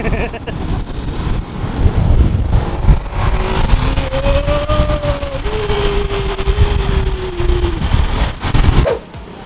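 Busy road traffic at rush hour in Cebu City, with a constant roar of engines close by and a passing vehicle's rising whine, loud and continuous with voices mixed in.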